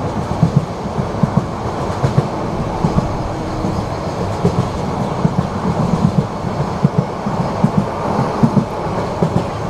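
Sonar Bangla Express passenger train passing through Akhaura Junction, with a steady loud rumble of rolling carriages and rhythmic clickety-clack of wheels over rail joints throughout.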